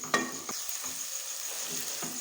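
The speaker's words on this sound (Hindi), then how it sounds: "इस तरह से हमने चम्मच चलाते हुए इसको भून लेना" A spoon stirs an egg-based sweet mixture roasting in a pan, making a soft continuous sizzle with a few scraping strokes, close and quiet, with no talking.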